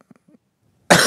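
A single harsh cough bursts out loudly after near silence, with only faint murmuring before it.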